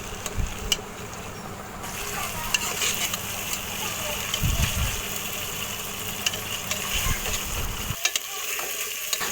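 Spice paste cooked down with ripe tomato and salt fries in oil with a steady sizzling hiss, a low background hum and a few clinks of stirring, fairly close, ending in a brief drop of sound.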